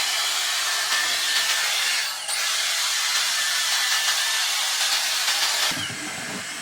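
Dyson Airstrait hair straightener blowing air, a loud, steady close whoosh of airflow with a brief dip in the middle and a slight shift in tone near the end.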